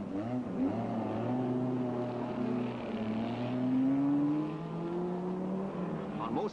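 Several 1962 race cars at speed on the Mosport circuit, steady loud engine drone with rising pitch sweeps as cars accelerate, continuous and fairly close throughout.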